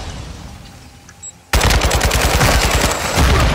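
Rapid AK rifle fire in a first-person shooter match bursts in suddenly after a quiet stretch, loud and sustained automatic gunfire with no talking.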